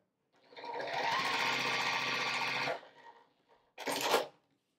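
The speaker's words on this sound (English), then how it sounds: "sew that 1/4-inch seam, press toward the darker fabric" A sewing machine stitches a quarter-inch seam joining contrasting 2.5-inch precut quilt squares, one steady close run of about two seconds followed by a short second burst.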